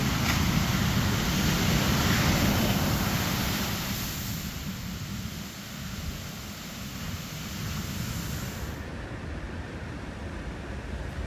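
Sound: sea waves

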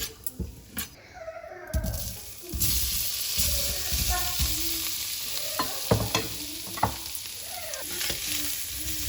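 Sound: lightly frying paneer pulao ingredients with salt and chili

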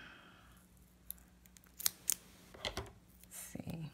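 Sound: scissors cutting pieces of paper for decoupage

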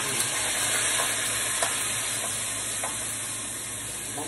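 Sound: sautéing seasoning (sazón) in a pan, sizzling

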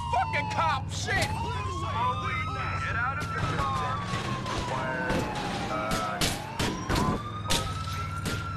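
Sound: police car sirens chasing, from video game GTA 4

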